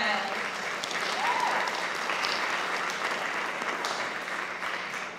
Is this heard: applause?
yes